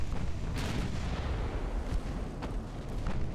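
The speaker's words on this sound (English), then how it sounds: "Oh, Vivacious is taking heavy fire." Naval gunfire in the warship game Ultimate Admiral: Dreadnoughts rumbles as a dense, continuous barrage of low booms with several sharper cracks standing out, loud and sustained throughout.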